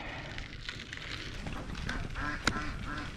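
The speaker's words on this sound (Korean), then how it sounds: "벌써부터 오리 소리 또 들리네" Ducks at a rural Vietnamese duck farm give a few honking quacks, some nearer and one sharp call standing out, over a steady noisy outdoor background.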